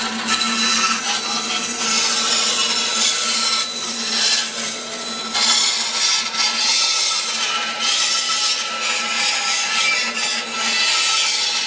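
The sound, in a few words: bandsaw cutting a styrofoam rock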